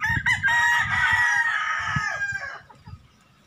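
A rooster gives one full, loud crow close by in a small backyard chicken farm, the call sustained for about two seconds before tailing off, with low clucking from other fowl underneath.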